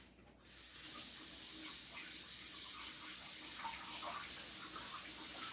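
Tap water runs steadily onto a whole egg being rinsed, a continuous close hiss and splash that starts abruptly and holds even with no talking.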